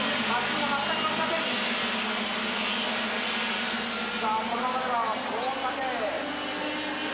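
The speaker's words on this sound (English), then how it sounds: "Very fast through these S's in these Formula Super A karts, 28 horsepower." Formula Super A racing karts with 28-horsepower engines scream through fast S-bends at a 1993 World Cup karting race in Japan, a steady loud high engine drone with rising and falling pitch as karts pass, under commentary.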